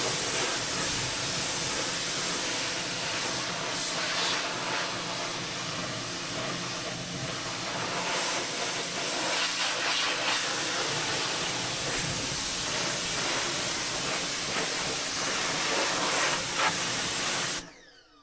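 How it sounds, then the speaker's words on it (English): A pressure washer sprays while cleaning an ATV, giving a loud, steady hissing roar that runs without a break and then cuts off abruptly at the end. "Great little pressure washer so far."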